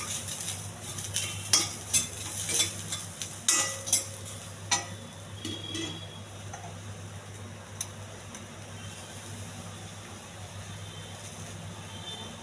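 Sweet corn frying in a pan while being stirred, with repeated sharp scrapes and clicks of a spoon against the pan over a steady soft sizzle that continues alone after the stirring slows.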